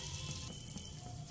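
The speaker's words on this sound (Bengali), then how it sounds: "তেল খুব ভালোভাবে গরম করে নিয়ে গ্যাসের ফ্লেম লো মিডিয়ামের মাঝামাঝি রেখে কিন্তু পিঠেগুলো ভেজে নিতে হবে" Semolina pitha batter sizzling steadily in hot oil on a low-medium flame, a close, continuous frying hiss with no speech.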